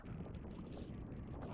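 Strong gusty wind blows across a lake in Cyprus, buffeting the microphone with a loud, continuous low roar and no breaks.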